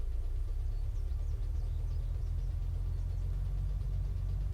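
A steady low car engine drone from the video game Unturned hums continuously, even and unchanging, as if cruising along at moderate speed with no talking.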